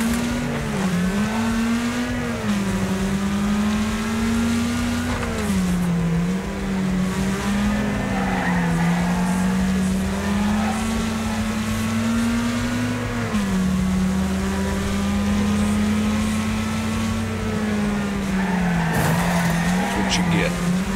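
Race cars in the video game Wreckfest, with a steady, loud engine drone and some tire squeal through the whole stretch, while a person talks over it.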